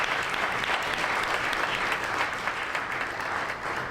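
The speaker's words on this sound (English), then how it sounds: "please clap for that, please clap for that" Sustained audience applause at a Chicago film festival panel, a thick, even wash of clapping that holds steady the whole time, moderately loud.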